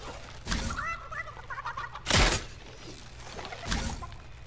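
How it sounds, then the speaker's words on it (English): A chicken in the game Fortnite clucks in a few soft bursts, broken up by louder crashing and shattering bursts, with no talking over it. "Chicken, stop running."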